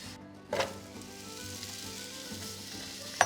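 Apple slices dropped into hot butter in a pan over high heat, a sudden burst of sizzling that settles into a steady frying hiss, with a sharp clink near the end.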